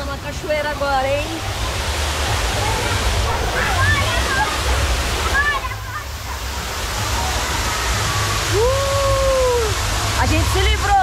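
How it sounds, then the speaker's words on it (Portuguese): Water park waterfall at a hot beach resort, a constant loud splashing rush of falling water, with children's excited voices and shouts calling over it throughout. "vamos passar uma cachoeira agora"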